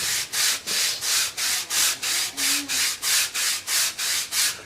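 A sanding stick scrapes back and forth over EVA foam with a steady, regular rhythm of about a dozen close, raspy strokes.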